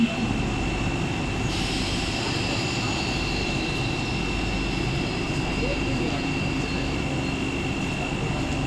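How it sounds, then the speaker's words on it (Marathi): A Mumbai slow local train bound for Dombivli pulls into platform 1 at a station at night, making a steady, loud rumble of wheels and carriages that runs unbroken throughout, with faint voices in the background. "7:10 की डोंबिवली जाने वाली धीमी लोकल थोड़े ही समय में प्लैटफॉर्म क्रमांक 1 पर"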